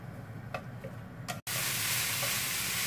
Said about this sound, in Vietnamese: Thì mình để cái nồi cái chảo củ sắn này nó nóng lại đi.